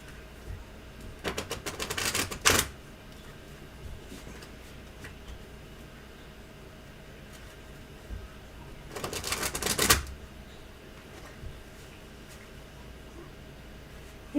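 Tarot cards shuffled in two quick riffled bursts separated by a long quiet stretch, close and fairly soft, with no one speaking.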